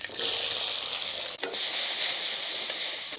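Onion, garlic and ginger go into a small amount of hot oil together for a beef chilli, giving a steady, loud sizzling hiss throughout with one short dip partway, no voices.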